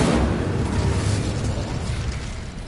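Fiery Incendio spell cast in a Harry Potter video game, a loud sustained whooshing roar and crackling burst of flame that fills the whole stretch, gradually easing off toward the end.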